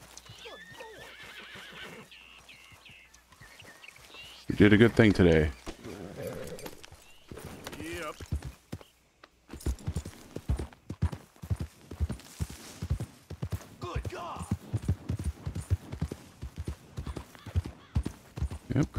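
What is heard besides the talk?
horse neighing and hooves in video game Red Dead Redemption II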